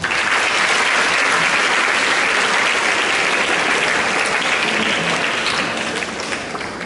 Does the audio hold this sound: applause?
yes